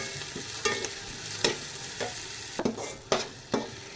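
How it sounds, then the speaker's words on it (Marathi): Tomatoes fry and get stirred in a hot pan for vermicelli upma, a steady sizzle broken every second or so by sharp scraping strokes of a spoon against the metal. "टोमॅटो पण छान आपल्याला भाजून घ्यायचं एक दोन तीन मिनटं जातील"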